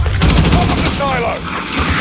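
Close air support gunfire in Call of Duty: Modern Warfare rattles as a dense, sustained fusillade of rapid shots and booming impacts, loud and continuous under urgent radio-style voices and game effects.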